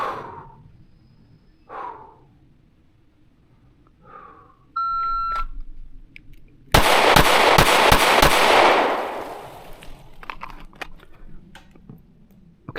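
A shot-timer beep sounds, then five sharp, loud pistol shots fired from the draw with a Canik Prime in a rapid string, echoing briefly before fading.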